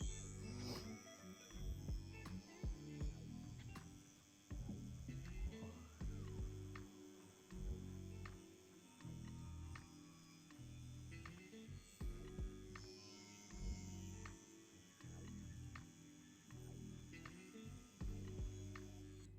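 A Yilong F6 wireless tattoo pen runs with a 3.5 millimeter 9-round liner while drawing straight lines, giving a steady, faint, close mechanical buzz with rhythmic pulsing and no voices.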